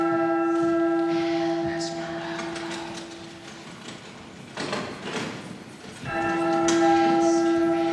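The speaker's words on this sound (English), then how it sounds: "Now sound the bells and send the city to sleep" Cathedral bells of Notre Dame ring out in long sustained tolls, loud and resonant, with steady hum of overlapping harmonics fading midway then swelling again near the end.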